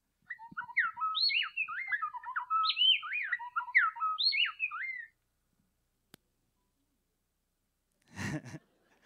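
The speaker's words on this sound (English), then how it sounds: "in addition to the male song and the female song, they put their songs together to make duets" Male and female songbirds singing a duet, a rapid series of bright, interlocking whistled phrases for about five seconds, followed by silence and a brief unrelated rustle near the end.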